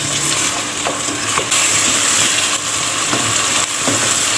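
Steady sizzling of ginger garlic paste frying in a hot pot, with occasional scraping and stirring sounds, close and continuous.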